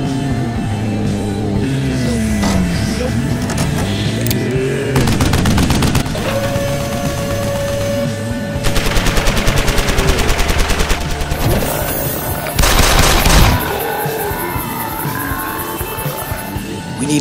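Turret machine gun firing in a LEGO zombie apocalypse movie, with loud sustained bursts of rapid automatic fire, repeated several times over a dense mix of engine roar and booms.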